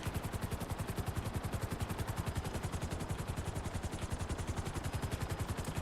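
Explosive sniper fire in a GTA game sounds as a rapid, steady stream of sharp gunshot bursts, evenly spaced and continuous, faint overall with no voices over it.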